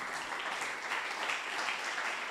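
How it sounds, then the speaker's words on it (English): Applause from the audience at a panel discussion on re-energizing Europe, a soft, even wash of clapping that stays fairly distant and quiet throughout the short burst. "Let's give a round of applause."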